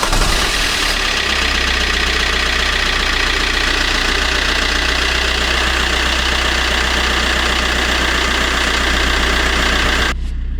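A car engine runs after its flat battery was recharged, holding a loud, steady idle for about ten seconds before cutting off abruptly, with no voices.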